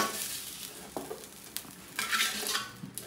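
Garlic fried rice is stir-fried in a pan with Japanese rice, giving a steady close sizzle with scraping and clinking of a utensil against the pan; no one speaks.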